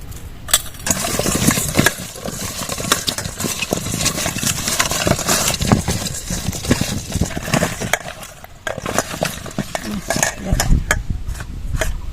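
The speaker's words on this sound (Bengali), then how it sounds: "লবণ দিয়ে মাখিয়ে নেব আমগুলো" Salted mango pieces being mixed by hand in a bowl, giving a steady run of wet, squishy stirring and light clattering knocks that continue without pause and with no talking.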